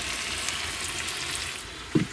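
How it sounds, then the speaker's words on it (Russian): Chopped onion and sausage frying in a pan on a wood stove in a cabin, giving a steady soft sizzle throughout with a brief louder crackle near the end. "Сейчас это все поджарится."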